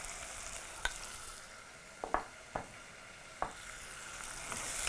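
Garlic frying in a pan, a soft steady sizzle with several sharp clinks and scrapes of a spoon stirring at irregular intervals, quiet and close with no voices.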